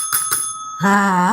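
Two quick rings of a small bell, followed by a longer, sustained ringing tone; bright and close.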